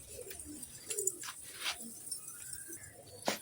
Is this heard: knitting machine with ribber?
no